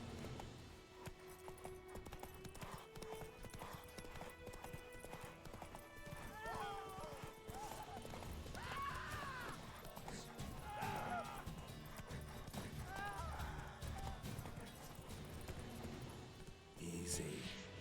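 Horse hooves clip-clopping steadily while riding in the video game The Witcher 3, a fairly faint rhythmic gait under game music and ambience, with a brief whinny and voices speaking at times.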